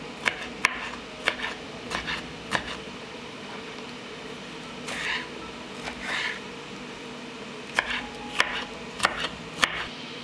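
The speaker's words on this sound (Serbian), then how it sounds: "sada ću iseći jednu crvenu papriku" A knife chops a red bell pepper into cubes on a board, sharp scattered taps in small bursts with pauses, close and fairly quiet over a soft background hum.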